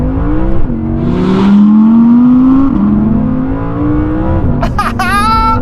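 An Audi R8 rear-wheel-drive engine revs hard toward 8,500 RPM, a loud, close, rising howl that climbs, dips at a gear change and climbs again before ending in a sharp burst of crackles.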